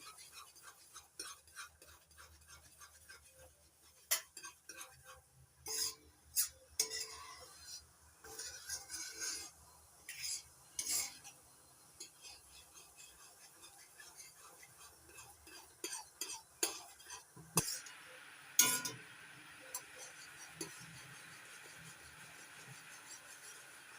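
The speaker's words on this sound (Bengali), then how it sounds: "এবার ফুটিয়ে একটু ঘন করে নেব অনবরত নাড়াচাড়া করে দিয়ে নিতে হবে" A spoon stirs a thickening syrup of sweet-lime lemon juice and sugar in a pan, with faint, irregular scrapes and soft clinks against the metal in a quiet kitchen.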